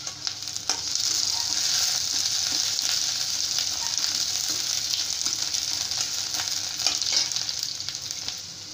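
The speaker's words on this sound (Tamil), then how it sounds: "கொஞ்சம் 2 நிமிஷம் வதக்கி விட்டுக்கலாம்" Onions sauté in an oiled pan with a constant bright sizzle, close and even throughout, with occasional soft ticks of stirring and no voices.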